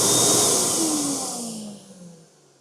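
An automatic commercial wall-mounted high-speed hand dryer with a drip tray roars with a loud, steady rush of air that gradually winds down and fades toward the end, with no talking.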